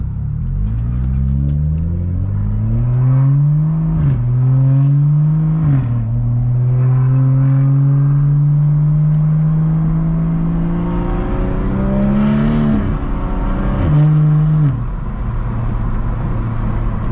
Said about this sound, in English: I'm gonna bring down the windows a little bit right now for you guys can hear the engine